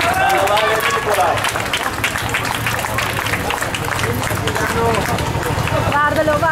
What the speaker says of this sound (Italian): facciamo un applauso al vincitore